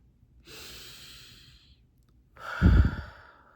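One slow, deep breath, close to the mic: a soft, airy inhale followed after a short pause by a louder, fuller exhale, with no speech.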